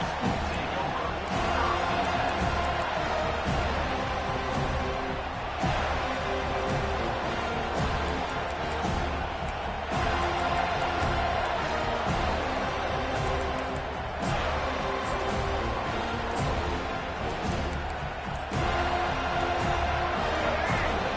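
Stadium crowd noise from the NCAA 25 college football video game, a steady roaring wall of cheering that stays loud and dense throughout, with commentary voices talking over it.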